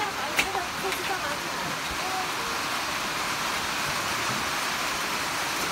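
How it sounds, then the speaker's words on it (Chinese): Heavy rain pours down at a campsite in Miaoli, Taiwan: a dense, steady broadband hiss that stays loud and even throughout, with faint voices underneath. "等一下，这大雨哦。"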